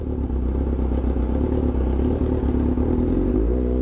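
A Honda CBR 1000RR-R V4 superbike with a modified exhaust and the dB killer removed idles loud and steady, a deep throbbing rumble with a slight rise in pitch near the end.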